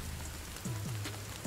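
Rain in a video game falls steadily, a dense even hiss of drops on surfaces filling the whole clip.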